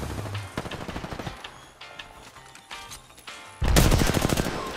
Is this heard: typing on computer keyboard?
no